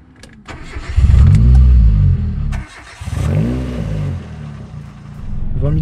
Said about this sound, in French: Pour une Twingo, je pensais pas que ça allait chanter autant.